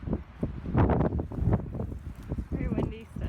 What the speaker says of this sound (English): Very windy still.